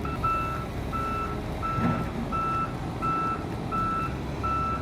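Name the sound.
Volvo EW145B wheeled excavator driving onto a trailer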